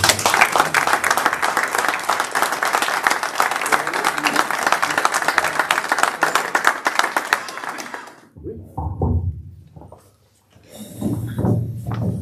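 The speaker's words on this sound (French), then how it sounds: "je pense qu'on peut l'applaudir pour ça" An audience applauds a bronze youth, sports and associative engagement medal recipient at a ceremony, a dense, sustained wash of clapping for about eight seconds before it fades into quieter room noise and a few scattered sounds.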